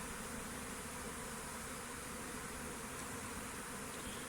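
A honey bee swarm settled on a tree branch during a May swarm capture, a dense, steady buzzing hum that fills the whole clip at a fairly even level, with no voices.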